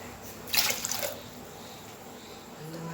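Water poured into a pot for payasam, one short splashing pour near the start followed by quieter dripping against low background noise.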